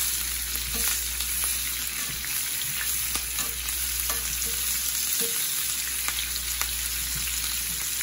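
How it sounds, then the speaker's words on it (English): Andouille sausage pieces laid into a hot frying pan beside chicken, giving a steady loud sizzle and fry throughout with scattered light clicks and scrapes as they settle, no talking. "Just add some sausage in here."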